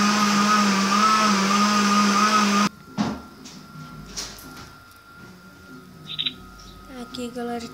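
A kitchen blender runs loudly and steadily with a whining hum, then cuts off abruptly, leaving quieter room sounds and some faint background noises.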